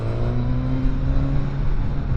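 A Suzuki GSX-S1000 four-cylinder motorcycle engine drones close and steady, a smooth low hum with a slight rise in pitch as it pulls along, with no talking.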